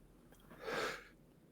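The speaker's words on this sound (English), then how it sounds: "I sneezed, but yes." A single soft sneeze, quick and muffled, rising and fading within a second against a quiet background.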